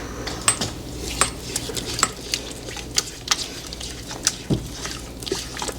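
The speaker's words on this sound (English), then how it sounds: "I'm just stirring the vanilla a little bit" A spoon stirs vanilla in a hot pot while making puppy chow, giving a close series of scraping, clinking strokes against the metal with a light patter underneath and no speech.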